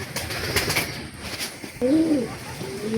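A pigeon sitting on its eggs gives a few soft, low coos close by in the second half, after some brushing and shuffling noises.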